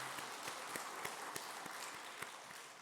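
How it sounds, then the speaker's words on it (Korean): A church congregation at a dawn family prayer service claps together, a steady fairly faint patter with distinct rhythmic beats standing out. "우리 하나님께 영광의 박수 올려드리겠습니다."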